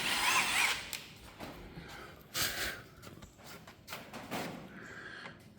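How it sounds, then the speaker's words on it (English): A small power drill with a tiny bit whirs in short bursts, boring a vent hole in an RV wheel hub plug, with brief pauses between bursts, close to the microphone, with some handling noise. "Tiny little drill bit."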